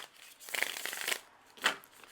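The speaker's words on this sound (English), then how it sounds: "It shuffles wonderfully." Riffle shuffle of a Once Upon A Time tarot deck, two quick close bursts of cards flicking and bridging together, a longer one then a shorter one, with no talking.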